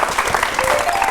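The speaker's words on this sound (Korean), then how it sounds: "여러분 박수 주세요." An audience at a lecture gives a short burst of steady, dense applause, loud and close, with no speech over it.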